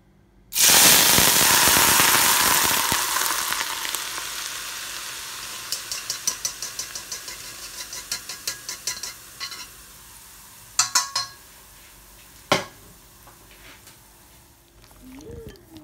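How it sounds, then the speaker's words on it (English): Hot oil poured from a wok over ginger and spring onion hisses in a loud burst that fades into a steady sizzle, with a spoon stirring and scraping in sharp clicks against a bowl. "Once the oil is bubbling, it's ready to be poured over the ginger and spring onion."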